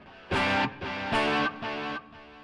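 Electric guitar through a Digitech iPB-10 pedalboard with chorus, delay and reverb switched on, playing a few sustained strummed chords in a row, each one ringing with a shimmering, washy tail.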